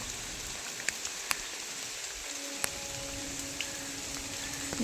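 Steady rain falling the morning after Cyclone Remal, a soft continuous patter with a few sharper drips and taps standing out nearby.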